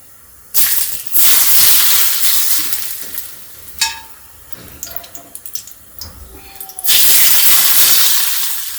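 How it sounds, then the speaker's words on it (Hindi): Two ladles of smoking-hot mustard oil poured into a handi of mutton, each pour setting off a sudden loud hiss and sizzle, with dripping and crackling between the pours. "यहाँ हम डाल रहे हैं सरसों का गरम तेल। गरम तेल बिल्कुल धुआं निकल रहा है, बिल्कुल गरम तेल डालेंगे 2 कलछी।"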